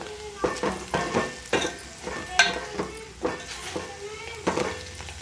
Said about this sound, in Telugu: ఇప్పుడు కర్రీని కలుపుతాను.